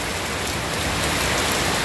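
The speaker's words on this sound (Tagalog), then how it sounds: "Pakalakas na ng ulan." Heavy typhoon rain pours down steadily in a landslide-hit area, a dense, loud, unbroken hiss of water with no voices.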